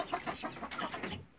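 Chickens in a winter coop cluck and murmur in a busy run of short, close calls that fade out at the end.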